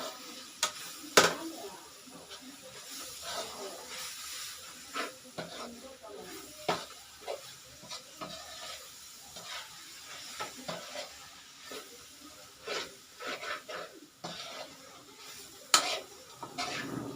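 Spices such as coriander and turmeric powder being mixed in a cooking pot, irregular scraping and metallic spoon clinks over a faint sizzle, close, with some intermittent background noise.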